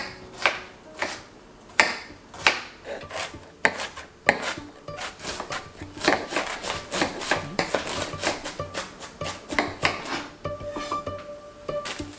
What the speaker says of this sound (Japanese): 最近まな板を新調したばかりなのでみじん切りがはかどる